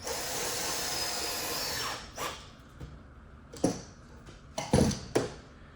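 Power drill driving screws into pine framing lumber for a vintage trailer door, a sustained whirring drive followed by several short bursts and creaks as the screws seat; close and fairly quiet, no talk.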